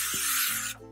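A product hisses out of a spray bottle in one short, steady spray close by that cuts off abruptly.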